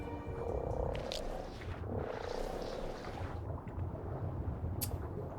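A Beelzebufo frog croaks in a video game, a low, rough rumble that runs steadily through the whole stretch at a quiet level, with no talking.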